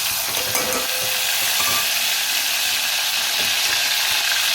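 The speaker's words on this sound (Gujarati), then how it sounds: "મેં નાખું છું ડુંગળી, ટામેટા, લીલા મરચાં," Onion, tomato, green chilli, garlic and ginger sizzle loudly in a hot pan, a dense steady crackle with occasional scrapes of a spoon stirring, no talking.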